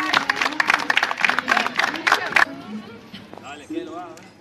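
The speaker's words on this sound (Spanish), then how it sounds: "Un aplauso, por favor." Brief burst of clapping and cheering from an audience at a sports innovation event, lasting about two seconds before giving way to voices talking nearby.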